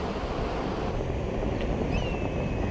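Steady roar of surf washing onto Bhatye Beach, Ratnagiri, on the Konkan coast of India, with wind buffeting the microphone throughout and a faint high whistle near the end.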